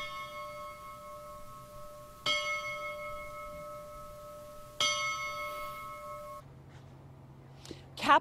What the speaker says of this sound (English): The ringing of the bell is a tradition at a firefighter's funeral.